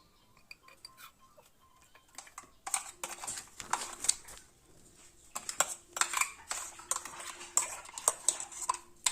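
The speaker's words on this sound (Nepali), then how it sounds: "अब साध्नको लागि चाहिँ मैले पाते च्याउलाई एउटा बोलमा राख्दैछु।" Oyster mushrooms being placed into a bowl in a home kitchen, heard as irregular light clinks and clatters of utensils and dishware, with sparse knocks early on and busier, closer tapping through the latter half.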